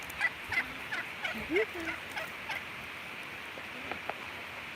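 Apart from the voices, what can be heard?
turkeys gobbling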